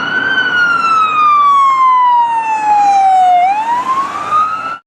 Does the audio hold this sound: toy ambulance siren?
yes